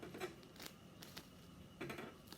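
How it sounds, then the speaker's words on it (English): Scissors slice a small paper square for a forsythia blossom craft: two or three quick crisp snips spaced about a second apart, close and fairly quiet, with no talking. "you just take scissors and you kind of slice in just a couple centimeters on either side"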